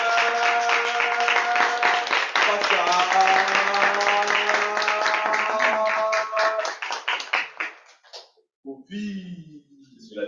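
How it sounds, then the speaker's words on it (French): Clapping from a Toastmasters club audience greets the general evaluator as he walks up, rhythmic handclaps over sustained musical tones that fade out, followed by a few scattered claps and a brief voice. "On l'applaudit jusqu'à ce qu'il arrive."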